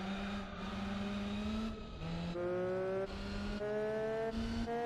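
Car engine in Gran Turismo 4, driven through Paris, holding a steady drone that drops in pitch with each downshift and climbs again, several gear changes in a row, close and continuous with no talking.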